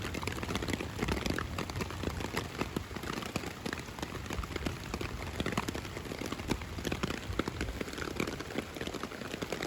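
Steady rain pours down at a campsite, a dense continuous patter of drops drumming on nearby surfaces with no pauses and no voices.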